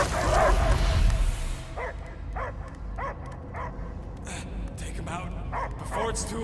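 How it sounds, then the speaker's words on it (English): In the Guardians of the Galaxy video game, a dog barks and yips in a series of short, sharp calls, fairly close, after a brief stretch of loud game sound with voices. "I hear only barking."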